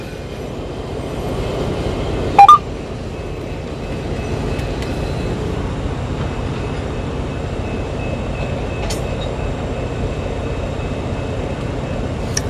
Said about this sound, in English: Now he's got to back up and hook to the train that he was originally hooked to.